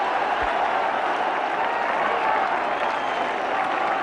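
A big crowd at a one-day international cricket match in Kolkata cheers and applauds India's win over England, a dense, continuous roar of clapping and shouting that fills the space.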